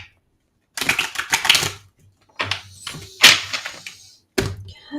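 Crisp papery riffling of tarot cards being shuffled in several quick bursts, with short pauses between them, close up and fairly loud.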